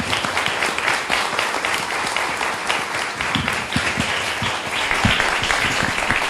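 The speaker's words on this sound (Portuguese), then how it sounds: "Vamos aplaudir aqui o autor." Audience applause for an author at a book talk on a Saturday, steady dense clapping from a modest crowd at moderate level throughout, with no speech over it.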